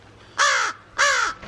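Two harsh, drawn-out crow-like caws, loud and close, separated by a short pause, imitated by a parrot.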